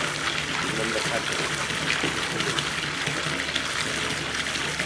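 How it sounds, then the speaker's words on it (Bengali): Water pours steadily from above into a RAS fish-farming tank, making a continuous rushing splash close by with no letup. "এই যে পানিটা যে উপর থেকে পড়তেছে"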